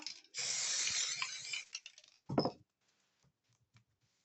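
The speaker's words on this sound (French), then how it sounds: "La colle en spray, je trouve ça super bien." A can of spray adhesive, used on a fabric album cover, lets out one long hissing spray burst, then a shorter puff, followed by quiet faint clinks, close by and with no speech.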